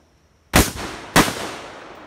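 Two suppressed rifle shots, one 5.56 and one 300 Blackout, fire about half a second apart, each a sharp close crack with a short fading tail, with no talk.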